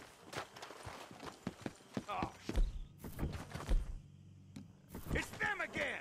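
Horse hooves clip-clop in Red Dead Redemption 2, close and uneven, mixed with footstep-like thunks while voices talk over them.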